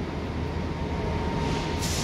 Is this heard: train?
yes